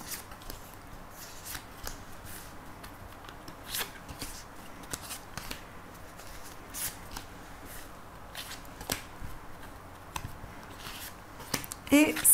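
Oracle cards are shuffled by hand for a reading, producing a steady, soft riffling patter with light taps and flicks throughout, close and quiet.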